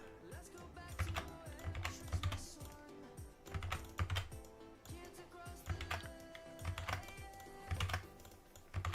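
Steady close typing on a computer keyboard during game development work, with dense rapid key clicks in irregular bursts and faint low hum beneath, no voices.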